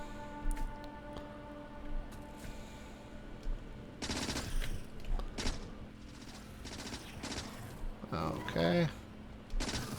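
Rapid gunfire from a player's gun shooting at biters in Factorio, bursts of repeated shots between about four and six seconds over steady game machinery hum, with someone talking briefly.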